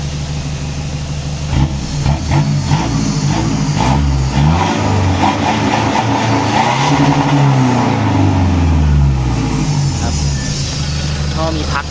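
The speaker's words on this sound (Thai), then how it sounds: "ก็เรามาฟังเสียงเบิ้ลตัดกันคันนี้" A Toyota Vigo pickup engine upgraded to a larger 3000 turbo with a tuned ECU revs hard over and over, roaring up and dropping back, close by and continuous, with a deep rumbling idle between bursts.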